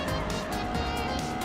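Traffic cars hum past in a Mario Kart race, a steady, dense engine-and-road rumble that fills the short stretch without pause, with no talk.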